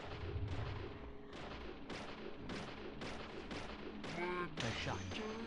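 Gunshots from the video game Deadly Premonition: Origins, a series of loud sharp reports fired in an uneven rhythm, about ten blasts with ringing tails, one followed by a whining ricochet-like tone near the end.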